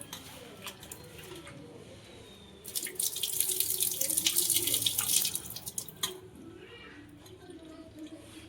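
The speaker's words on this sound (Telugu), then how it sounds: "కార్న్ ఒలుచుకున్నాక ఒకసారి వాష్ చేయాలి ఫ్రెండ్స్" Running water pours hard from a tap over peeled corn for a few seconds, splashing loudly between quieter kitchen sounds.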